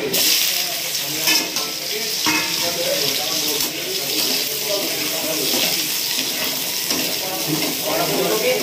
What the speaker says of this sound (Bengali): এবার আমি এই তেলের মধ্যে এই যে সয়াবিনটা ভেজে নেব।